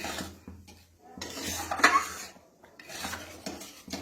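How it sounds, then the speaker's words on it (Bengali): A utensil stirs coriander chutney in a pan, giving uneven scraping and clinking bursts separated by short quiet gaps, close and moderately loud. "ওটাকে কন্টিনিউ নাড়তে থাকতে হবে না নাড়লে ছিটকে আসবে"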